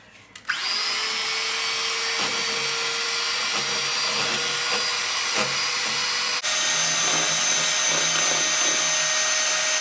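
An electric beater whips cream for homemade butterscotch ice cream, starting abruptly with a loud, steady motor whine, shifting pitch midway and running continuously with faint bowl rattles underneath, no voices.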